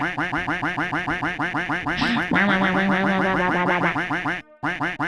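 Rapid, loud, relentless duck quacks from the video game Duck Sim, stacked into an overlapping stream of honking calls with a sudden brief cutout near the end.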